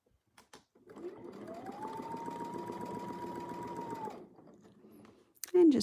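A sewing machine stitches along a marked line with a Westalee ruler foot, a close, steady motor whir lasting about three seconds. Soft clicks come before and after, and a sharp squeak sounds at the end.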